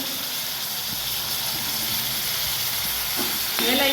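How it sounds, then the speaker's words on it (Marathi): Chopped tomatoes go into browned onions roasting in a pan for a lima-bean curry, setting off a steady, fairly close sizzle and hiss that runs throughout and swells louder near the end. "आपण त्याच्यामध्ये चिरलेले दोन टोमॅटो टाकून देऊया"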